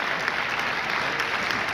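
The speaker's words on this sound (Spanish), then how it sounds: "So a big hand for Ben Burtt." Conference audience applauding with dense, steady clapping that holds at an even level throughout, with no speech over it.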